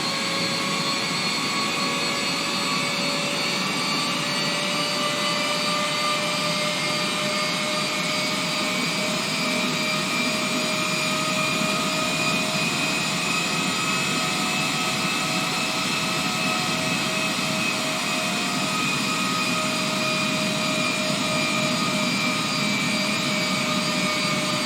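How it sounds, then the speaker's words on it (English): Steady, loud jet engine roar from a Qantas heavy airliner taking off in Microsoft Flight Simulator 2020, a continuous broadband rush with sustained whining tones and no breaks. "Cleared for takeoff runway 19er left Qantas 533 Heavy."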